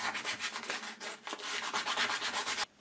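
Wooden box lid piece being sanded by hand, a rapid rhythmic back-and-forth rasping at close range that stops abruptly near the end.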